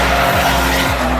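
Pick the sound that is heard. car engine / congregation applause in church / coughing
car engine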